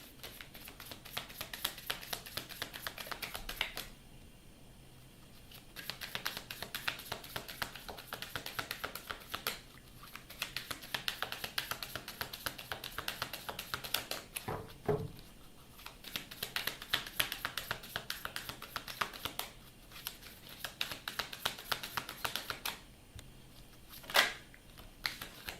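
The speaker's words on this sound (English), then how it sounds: "Let me get your card shuffled and get Spirit in" Tarot cards shuffled by hand during a live reading, heard as dense rapid riffling and tapping in bursts of several seconds with short pauses between, close and fairly soft, with no talk.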